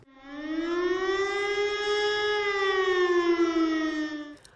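A civil defense air raid siren in Ternopil holds one long, loud, steady wail that swells slightly and then cuts off, sounding alone without any talk.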